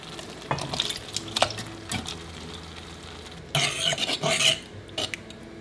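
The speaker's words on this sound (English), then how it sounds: "I'm gonna add the rest of our contents into the hot gravy." Venison pot pie filling is stirred into hot gravy in a pan, with scraping spoon strokes, light sizzling and bursts of louder wet stirring near the end, no speech.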